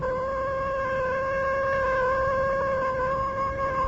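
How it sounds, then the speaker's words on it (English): A cat meows in a sustained, drawn-out tone, steady and fairly loud throughout, heard alone with no voices, as a sound effect in a radio drama. "I told you it was a lucky cat."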